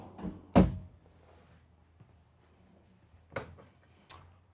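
A drawer in a 2023 Newmar Dutch Star 4081 RV is handled, with one solid thunk followed by quieter sliding and two more knocks, close by in a quiet interior.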